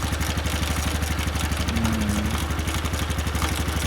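A Honda Cub Pro 110 (JA10) single-cylinder engine, just repaired for a cracked cylinder, idles steadily close by with a rapid even putter and light mechanical clatter throughout.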